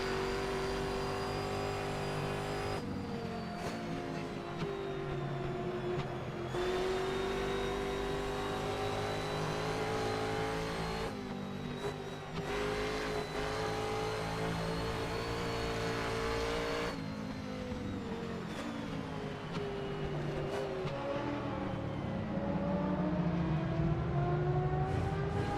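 Historic sportscar engines, a Ferrari and a Maserati, race around the Riverside circuit in an online sim racing game, a steady loud drone of revving motors with pitch rising and falling through gear changes and corners.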